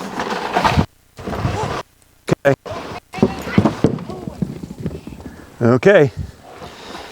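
A mare's hooves clip-clop in uneven bursts of steps after she spooks during training, mixed with people talking nearby and a brief whinny-like sound.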